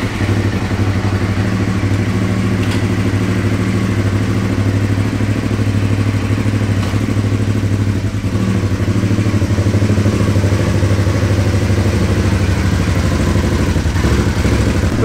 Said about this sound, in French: Petit démarrage à froid pour vous faire entendre le bruit avec la boîte à air, le manchon de boîte à air découpé